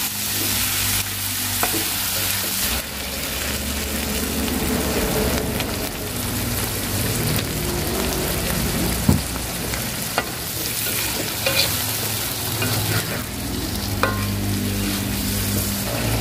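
Eggs and tomato stir-fry in a pan, a continuous close sizzle with repeated stirring scrapes and small ticks, alone without voices.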